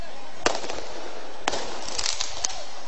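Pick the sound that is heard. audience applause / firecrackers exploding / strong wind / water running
firecrackers exploding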